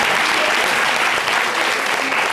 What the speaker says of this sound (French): Merci d'applaudir la tante de Sylvie Diabaté.